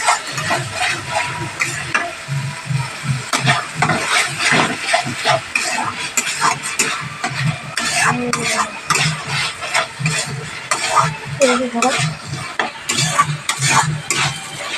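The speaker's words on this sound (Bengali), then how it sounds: "এই যে এবারে একটু চিকেনটা তুলে দিলাম বন্ধুরা" Chicken marinated in sour yogurt fries in a pan, with a soft sizzle under repeated rhythmic scraping and clinking of a spatula as it is stirred and lifted, close and fairly loud.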